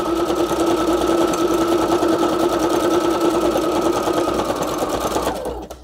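A sewing machine runs a straight stitch along the bottom of a junk mail pocket, a loud, close, steady rapid chatter that holds evenly for over five seconds before winding down at the end.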